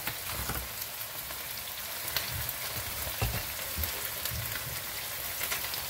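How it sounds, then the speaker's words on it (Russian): Meat frying on its second side in a pan, for a dish of fried meat in sour cream with onion: a soft, continuous crackle and sizzle with scattered pops, fairly quiet and steady. "Все, жарим со второй стороны, практически готов."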